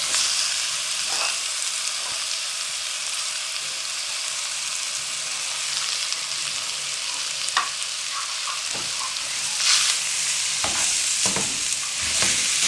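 Mashed potatoes are stirred into spices frying in a pan, giving a steady close sizzle with occasional scraping and clinking of the spoon.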